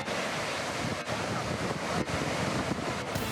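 Surf at Lumpue Beach in Parepare, South Sulawesi, roars in a steady, dense wash, with strong wind rumbling across the microphone and no clear pauses between waves.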